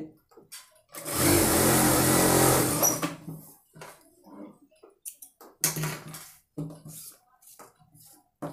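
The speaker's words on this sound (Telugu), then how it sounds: "మనం మిషన్ పాదాలలోనే చాలా ఈజీగా తెలి పైపింగ్ని కుట్టుకోవచ్చండి" A sewing machine stitching thread piping onto a blouse neck with a normal presser foot, running in one steady whirring burst of about two seconds, followed by scattered clicks and handling knocks.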